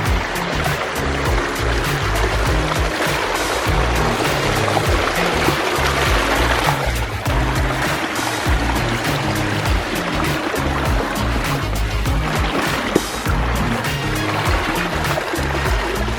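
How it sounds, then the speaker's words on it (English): A 45-foot backyard waterfall running down a slope into a reservoir gives a steady, dense rush of splashing water, loud and continuous throughout with no voices. "then 45 feet of waterfall on up the slope"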